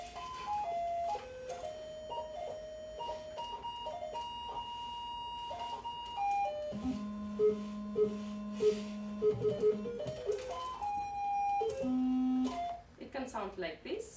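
No-input feedback from a Mackie mixer, shifting sustained tones that step between pitches, then a low pulsing warble and a burst of busy chirps at the end, fairly quiet.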